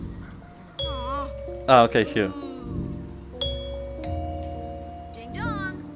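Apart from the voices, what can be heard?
bell ringing in Ghost Giant video game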